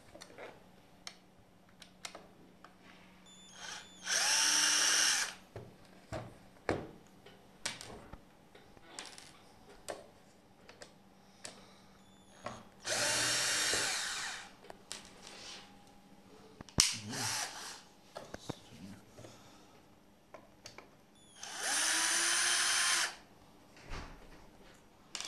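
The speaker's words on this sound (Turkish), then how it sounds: "Hızlıca şarjlı matkapla sökelim." A cordless drill set to low speed backs screws out of a Mazda 3 / CX-3 touchscreen unit, giving three short whirring bursts separated by quiet clicks and handling noises.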